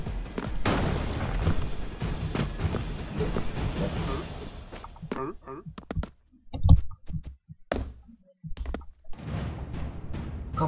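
Bursts of booming blasts and crashes from the game Broforce, dense at first and then sparser with short silences between.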